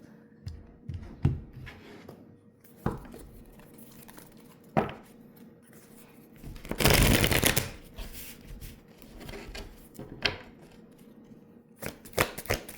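Tarot cards are shuffled by hand with soft, repeated riffles and slides. One louder, denser flurry comes in the middle, and a few light taps follow, with almost no talking.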